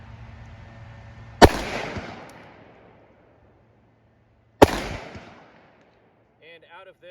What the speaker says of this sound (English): I'll take two shots at the right target